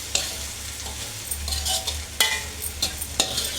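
Vegetable fried rice is tossed and stirred in a hot pan, giving a steady sizzle broken by repeated scraping clatters of the spatula, close and with no speech.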